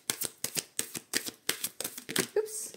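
Tarot cards drawn one by one from a deck, a close series of about nine crisp papery flicks and slaps in steady rhythm, ending with a brief soft sound as a card is set down.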